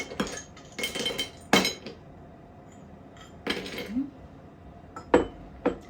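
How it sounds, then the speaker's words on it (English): Ice cubes are dropped into a drinking glass while a virgin margarita mocktail is prepared, giving several separate clinks and clatters in small bursts with short quiet gaps between them. Close by, with no voices. "I'm going to go ahead and add some ice in my glass."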